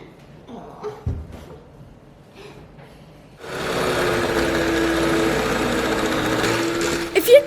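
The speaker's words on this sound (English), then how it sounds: "It's time for whipping the ice cream, for inglobate the air, and to try to putting down the temperature." Homemade ice cream mixture being whipped with an electric mixer: after a few quiet seconds of faint sounds, a steady, loud motor whir starts and runs to the end, with a brief clatter near the finish.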